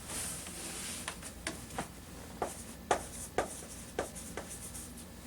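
A pen writes English words by hand on paper up close, giving a quiet run of scratchy strokes with about a dozen sharp taps and flicks as each word is formed. No one speaks.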